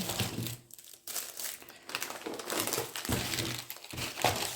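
Close, loud crinkling of a plastic bag of sweets, irregular rustling handled in bursts with a short pause near the start.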